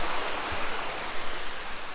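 River water rushes continuously near a waterfall, a broad steady hiss with soft low surges, fairly close and filling the whole scene with no voices.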